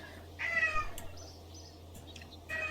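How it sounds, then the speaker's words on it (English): A house cat meows a few times nearby, short plaintive calls over a low steady hum in an indoor room, with no one speaking. "I love how whenever I'm recording or trying to stream, the kitties always have to get involved."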